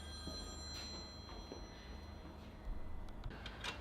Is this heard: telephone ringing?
yes